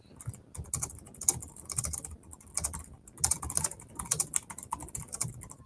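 Steady typing on a computer keyboard, with rapid clustered keystrokes in short bursts and brief pauses, close and moderately loud with no talk.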